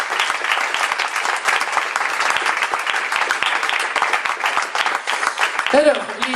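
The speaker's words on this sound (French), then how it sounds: "applaudissez-la s'il vous plaît" Audience applause at a small concert, steady dense clapping from a crowd filling the whole stretch, fairly close and loud, with a voice breaking in near the end.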